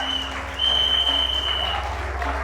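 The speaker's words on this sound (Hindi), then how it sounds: "जोरदार तालियां हो जाए प्लीज" Applause from a media crowd at a Bollywood trailer launch, a dense clapping wash that swells after half a second over a steady hum, with a sustained tone running through it.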